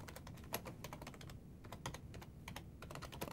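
Rapid, steady typing on a computer keyboard, close up, with dense clicking keystrokes and a brief pause in the middle.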